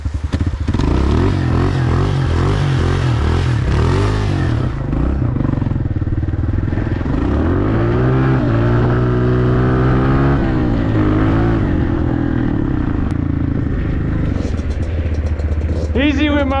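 Dirt bike engine on a winter track: loud, close engine revving that rises and falls, repeatedly climbing through the revs and settling, with a brief rattle near the end and talking over it.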